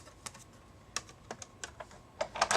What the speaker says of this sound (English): it's just the pressure of the plates going through the machine